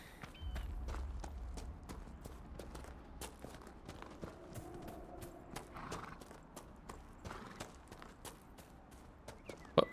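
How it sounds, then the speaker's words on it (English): Horse hooves clip-clopping at a steady walking rhythm in the Dragon Age Inquisition video game, moderately close over a quiet ambient background. "I can hear a horse."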